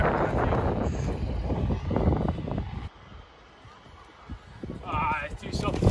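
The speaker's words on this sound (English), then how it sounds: "It's so windy out here" Gusty wind buffets and rumbles across the microphone, loud and blustery, easing briefly midway, while a person talks underneath.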